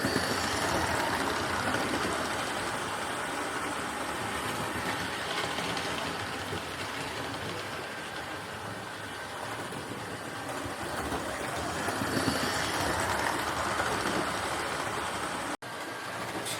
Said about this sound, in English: this is a view of the locomotive coming round past the signal on the signal box